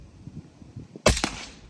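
A single sharp rifle shot of a .308 round fired at a body armor plate from 50 yards, a loud close crack with a short echoing tail after a faint background murmur.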